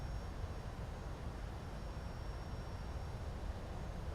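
Boeing 757-200 jet engines throttled back in X-Plane 11 flight simulation, a faint steady broadband whoosh and low rumble with no distinct events throughout.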